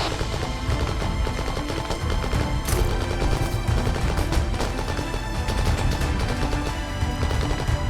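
Arma 3 gunfire from a military camp battle rattles in loud, dense, near-continuous bursts and rapid volleys, close and overlapping for the whole stretch, with no talk over it.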